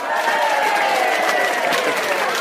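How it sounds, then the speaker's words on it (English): A studio audience applauds and cheers steadily throughout, dense continuous clapping with crowd noise at even loudness. "Sounds like our special studio audience here is excited as well"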